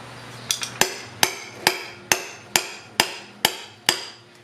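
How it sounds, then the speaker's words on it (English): A hammer taps a lubricated circular polyurethane bushing into the rear trailing arm of a Honda Civic wagon, nine or ten sharp metallic strikes at a steady, roughly half-second rhythm, close and clear with no talking. "I'm just going to use my hammer."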